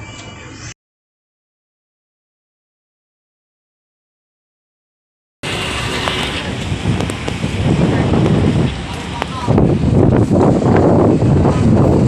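Strong wind buffets the microphone with rough wave and water noise at a ferry waiting in heavy seas en route to Samar, a brief burst, a gap of silence, then a loud sustained roar.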